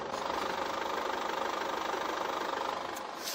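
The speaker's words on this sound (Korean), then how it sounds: "이 정도의 엔진 소음 만나보실 수가 있습니다" A 2.0 diesel engine in a Chevrolet Captiva SUV idling with the hood closed, giving a steady, muffled diesel rumble with a faint rhythmic knock, close and continuous with no talking.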